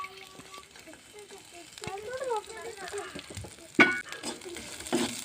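Garlic, chopped ginger and curry leaves fry in coconut oil for a chilli chutney, giving a soft, steady sizzle that runs under a person talking, with a sharp clatter near the end.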